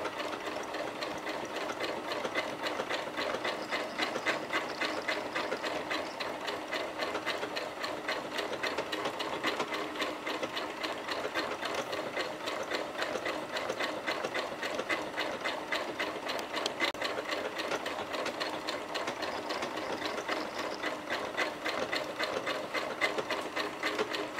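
A sewing machine running steadily on its Start-Stop button rather than the foot pedal, producing a continuous rapid mechanical whir and tick of stitching that stays close and even throughout, with no voices.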